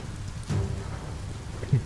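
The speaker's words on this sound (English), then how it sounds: "It's literally raining inside their house." Rain in the Biomutant video game, falling indoors inside a house, a soft steady patter at moderate volume with a couple of brief thumps over it.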